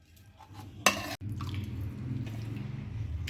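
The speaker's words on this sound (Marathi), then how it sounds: "आता आपण हे स्वच्छ धुवून घेणार आहोत हे आपण दोन पाण्याने धुवायचे आहे" Raw fish for frying is washed in water by hand, with soft sloshing, drips and small splashes and one sharper clatter of a bowl or pan early on, all fairly faint and close, with no talking.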